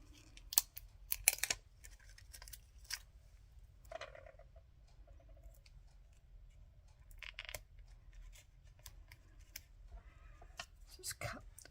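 Scissors snip through card at a papercraft table, a cluster of quick close cuts early on and a few more scattered later, light and crisp over a low background hum.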